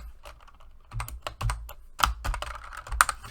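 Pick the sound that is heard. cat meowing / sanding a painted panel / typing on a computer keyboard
typing on a computer keyboard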